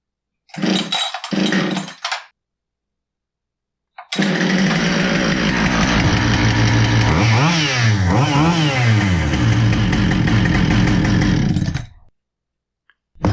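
A Husqvarna 572XPG chainsaw, a unit known to bog in the cut, cranked with two short pulls that fail to catch, then firing and running loudly near, with two rising-and-falling throttle revs before cutting off.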